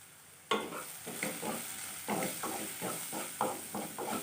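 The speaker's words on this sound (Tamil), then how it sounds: "நல்லா கிளறி விட்டுக்கணும்." Baby potatoes frying in a pan with turmeric, coriander and chili powder are stirred: a soft sizzle under repeated scraping stirs in an uneven rhythm, close but fairly quiet, with no voices.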